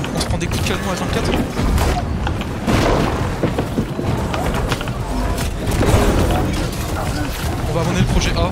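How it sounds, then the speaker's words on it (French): Repeated cannon shots striking players in a team video game, booming low thuds piling up continuously while people talk over the barrage. "On se prend des coups de canon à 24."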